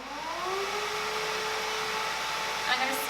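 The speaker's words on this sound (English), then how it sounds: "I'm going to start just by vacuuming it." A Bissell Crosswave cordless wet/dry mop vacuum runs steadily over a dirty floor, a close, continuous motor whine and airy rush with slight pitch drift and no pauses.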